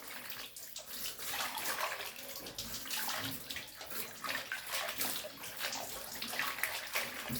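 Tap water runs steadily and close by while pork intestines are washed in a sink or basin, a dense continuous splashing with constant loudness and no talking.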